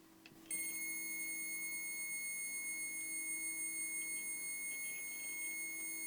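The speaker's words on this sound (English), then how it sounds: "If you want to check the battery, there's this little lever right here, and it makes a fantastic sound." A camera's battery-check lever sets off a steady electronic beep, a sustained high tone that starts after a faint click and holds continuously, quiet and close.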